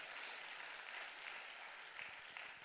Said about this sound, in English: come on, we can clap it up.